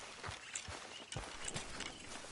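Horse hooves clip-clopping in the video game Red Dead Redemption 2, a moderately paced series of soft thuds at walking pace, fairly faint, over a low background wash.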